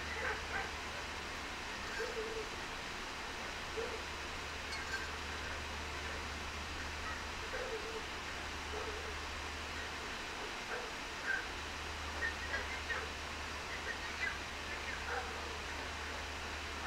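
Sled dogs on a winter expedition yip, whimper and let out short barks in scattered bursts, moderately distant and faint over a steady background hiss, with no speech.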